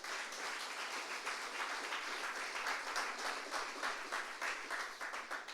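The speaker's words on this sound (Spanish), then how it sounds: "Démosle palmas al Señor." Church congregation clapping steadily in rhythmic applause during a Spanish-language worship service, dense and sustained throughout with no voices rising above it.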